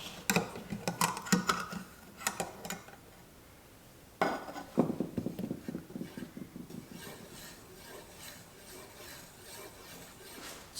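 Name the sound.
stirring a can of Minwax Special Walnut wood stain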